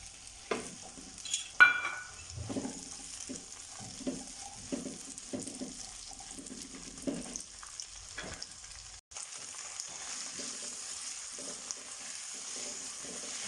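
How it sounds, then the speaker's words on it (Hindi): Capsicum and onion being stir-fried in a pan for chicken jalfrezi, a steady hiss of sizzling oil punctuated by irregular scraping and clattering strokes of a spatula, close and moderately loud, with no talk. "1 अदद शिमला मिर्च और 1 अदद प्याज ये इसमें ऐड करेंगे। उनको स्टर फ्राई करेंगे हम।"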